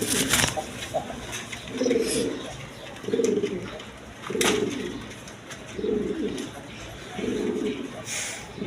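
A pair of Sirazi Lahori pigeons coo in a steady series of about five low, rounded calls, each roughly a second apart, close by over a constant rustling background.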